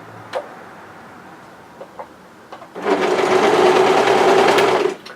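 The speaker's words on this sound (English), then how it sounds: "So when you're ready, just start overlocking." An overlocker sewing machine runs in a single fast, even burst of about two seconds, stitching along the edge of cardigan fabric, preceded by a few soft taps and handling clicks.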